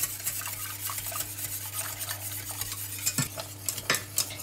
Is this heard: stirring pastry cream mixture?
yes